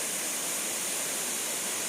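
Soi Sawan waterfall in Pha Taem National Park, down to a single stream at the end of the rainy season, gives a steady, even rush of falling water with no voices.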